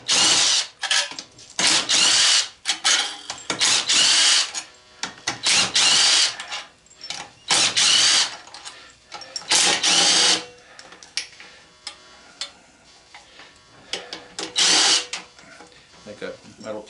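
A power tool whirs in repeated short bursts while it removes half-inch head bolts from an old lawnmower engine, with pauses between runs and a person talking in between.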